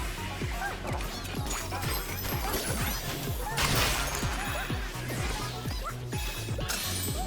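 Glass smashing in the Astro Bot video game, a bright crash bursting out around the middle over a busy, rhythmic game soundtrack with thumping bass notes.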